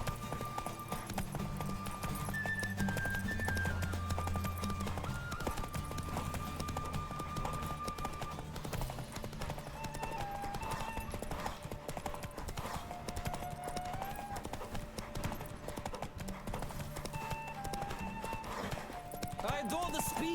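Horse galloping in The Witcher 3, steady clip-clop hoofbeats running continuously at close range under a bed of music and game sounds, with occasional whinnies.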